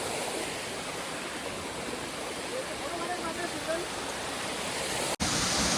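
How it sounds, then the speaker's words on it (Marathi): A waterfall in the countryside, heard as a steady, dense rushing roar of falling water that fills the whole clip, with a brief dropout just before the end. "शोधून शोधून धबधबा शेवटी भेटला"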